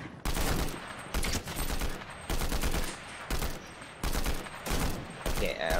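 Bursts of rapid gunfire in an online shooter video game, several loud volleys separated by short pauses, with players' voices talking between and over the shots.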